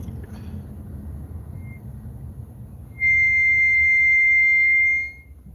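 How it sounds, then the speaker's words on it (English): A car's brakes let out a sustained high-pitched squeal lasting about two seconds, loud and steady, following a low road rumble. "If you heard any squeaking, there was brakes."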